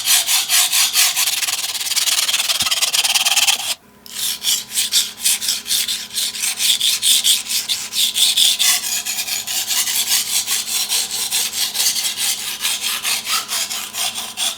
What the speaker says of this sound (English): Create a burr on the left side by sharpening the right side, then flip on the same grit stone to the left side to remove the burr